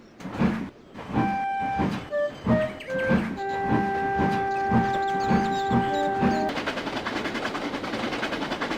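A steam train chugs with rhythmic puffing beats, a sustained whistle-like tone sounding over them, then settling into a steady rushing rumble.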